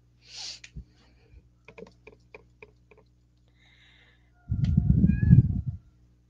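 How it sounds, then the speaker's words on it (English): A cat meows indoors during a painting session, a few faint tonal cries near the end over a low rumbling burst, with soft scattered tapping and clicks earlier. "And there is the cat for everybody to hear."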